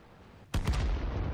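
A single heavy cannon blast from an SU-152 tank gun in the game World of Tanks, a sudden loud boom that rolls into a sustained rumbling tail.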